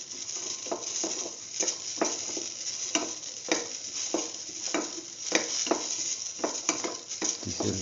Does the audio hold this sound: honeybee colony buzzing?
no